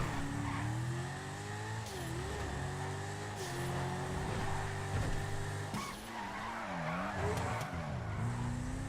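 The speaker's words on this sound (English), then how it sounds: "It's alright for drifting too." A car in GTA Online slides through drift turns, tires screeching loudly and continuously while the engine revs rise and fall underneath, close and dominant with no voices.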